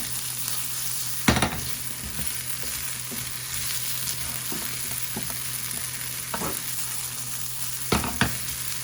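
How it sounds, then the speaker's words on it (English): Diced potatoes, peppers and onions sautéing in a pan for a cheese omelette, a steady close sizzle with occasional sharp scrapes and clanks of a utensil stirring the vegetables. "So just gonna keep sauteing this"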